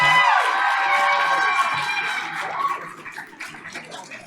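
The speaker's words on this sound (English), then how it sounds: "Let's give this awesome young man another round of applause." An audience at a board of education meeting applauds and cheers for a young man, a loud burst of clapping and shouts that gradually thins and fades toward the end.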